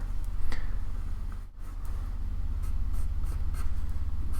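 A pencil shades across paper as hair is drawn in real time, giving a close, continuous scratchy scraping in quick back-and-forth strokes with one brief pause and no talking.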